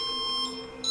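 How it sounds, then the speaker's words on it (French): A motion detector emits steady electronic beeping, a cluster of high pure tones that hold on, dip briefly midway and swell again near the end, moderately loud with no voices. "mon détecteur de mouvement se déclenche"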